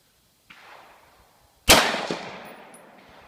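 Two sharp M1A rifle gunshots at targets on an outdoor range, a softer report first and then a much louder crack with a long ringing decay, with no talking.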